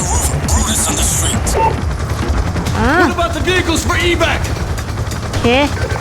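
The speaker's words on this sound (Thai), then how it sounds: "มันประเคนกระสุนมาแล้วแหละ เสียงกระสุนมา" Rapid gunfire from the video game Call of Duty Black Ops 2 rattles loudly and continuously under someone talking excitedly over the action.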